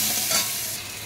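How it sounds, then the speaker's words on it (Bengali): Potatoes seasoned with turmeric and salt fry lightly in a pan, giving a steady close sizzle with soft stirring scrapes and no voices. "হালকা করে ভেজে নেব আলুগুলো"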